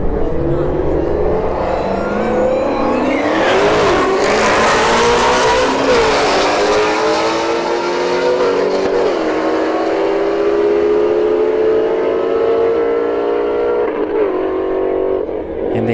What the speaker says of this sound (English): Shelby GT350 right lane. Hellcat Charger in the left lane.